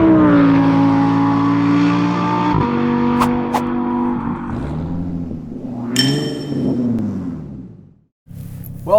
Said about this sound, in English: Today we are doing a street drive with the Lamborghini Huracan STO